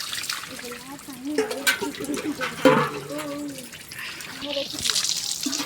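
Water is poured and splashes over a statue of the goddess Varahi during a bathing ritual, with trickling and splattering under a voice speaking and chanting nearby.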